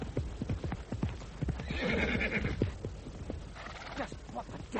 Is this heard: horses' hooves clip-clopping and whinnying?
yes